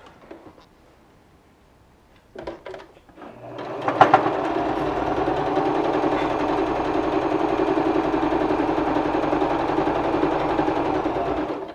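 A sewing machine stitching a fabric face mask starts after a few soft handling clicks, then runs in a steady, close, continuous whir with a fast mechanical rattle for the rest of the stretch.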